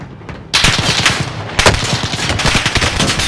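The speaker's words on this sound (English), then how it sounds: "Why is he shooting at me?" Rapid automatic gunfire in a video game, loud dense bursts of shots after a brief quieter lead-in, with a sharp crack partway through.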